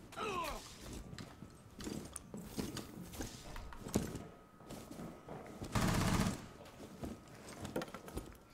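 Gunfire in Rainbow Six: Siege, scattered sharp shots and short bursts at moderate loudness with mechanical clatter, including a dense burst midway, amid quiet game ambience.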